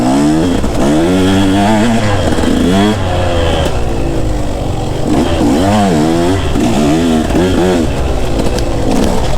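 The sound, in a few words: enduro motorcycles (KTM 150, Husky 350) riding through woods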